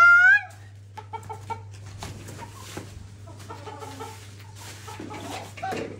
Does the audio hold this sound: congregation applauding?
no